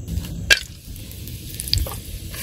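Cardamom and garam masala hit hot oil for a village chicken biryani, giving a low steady sizzle with two sharp crackling pops near the start and middle, close and moderately loud.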